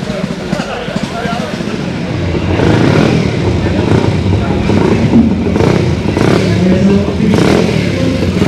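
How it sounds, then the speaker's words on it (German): A Ducati 250 racing motorcycle from the late 1970s or early 1980s, shown at an oldtimer vehicle meet in Trostberg, has its engine running and revving as a rough, clattering drone, with someone talking over it throughout. "Eine Ducati 250er Rennmaschine."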